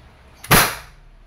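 A single sharp pop from an Umarex Glock 17 Gen 3 airgun pistol firing one shot, close and loud, with a faint click just before and a short decaying tail.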